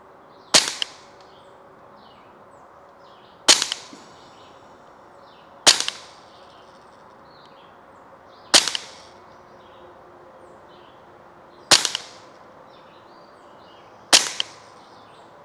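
Six sharp, crisp shots from a Hatsan Sortie Tact air pistol firing Crosman Ultra Magnum pellets, evenly spaced about two to three seconds apart, each a loud snap with a short ringing tail against quiet surroundings.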